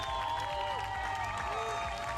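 A triathlon crowd at the St. Pölten finish line applauds and cheers the race winner, a steady wash of clapping and voices filling the short moment without a break.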